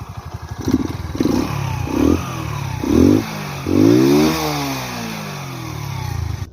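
A Chinese moped engine runs nearby with a buzzing, clattering idle and several short throttle blips, each rising and falling in pitch, then settles back to a steady drone.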